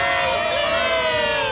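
A crowd cheers and shouts at an Angels baseball game, a loud, continuous roar of many voices filling the stands throughout.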